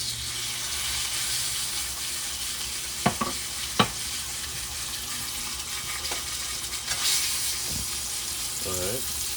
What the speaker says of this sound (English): When your pan heats up, you want to just put the steak